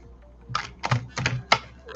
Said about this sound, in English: I don't think I can shuffle like this, but we will attempt.